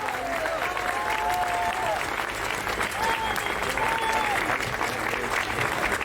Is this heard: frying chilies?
no